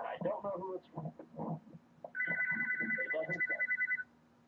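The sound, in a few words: telephone ringing with incoming call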